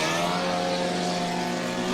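Race cars on a short track at Harris Speedway idle and rumble steadily as they pull out, a loud sustained engine drone with a droning harmonic tone and no audible talk.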